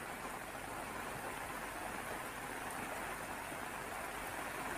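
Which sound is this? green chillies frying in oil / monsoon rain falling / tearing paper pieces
monsoon rain falling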